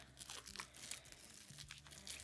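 Delicate silver chain jewelry being unwrapped from secure packaging, with soft crinkling and rustling of wrap in bursts across the stretch, close and quiet, with no talking.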